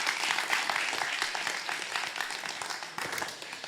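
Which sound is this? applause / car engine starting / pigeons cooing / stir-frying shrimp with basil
applause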